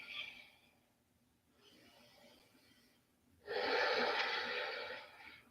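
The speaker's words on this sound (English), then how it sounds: "Ujjayi breathing." Slow, audible Ujjayi breathing during a yoga flow, with soft hissing breaths through the throat. Two quieter breaths come first, then a longer, louder exhale closes the sequence.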